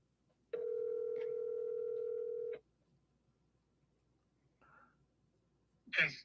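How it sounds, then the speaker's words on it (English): Telephone call tone heard as a single steady tone lasting about two seconds, clear and close, followed by quiet line noise, a brief soft blip, and a short breathy sound at the end. "So I'll call Chris really quick."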